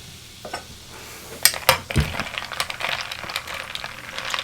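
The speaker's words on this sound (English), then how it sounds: "Another little stir." Bar spoon giving a maple old fashioned with club soda a brief stir in a glass, a few light clinks over fizzing bubbles, close and quiet with no talk.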